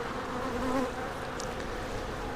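Honeybees hum around an open hive in a July apiary, a soft, steady buzz with a brief louder pass from a nearby bee.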